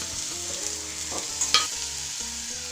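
A spatula stirring food in a pan over a medium gas flame, gentle sizzling with a few clear scraping knocks and faint background tones, close and steady.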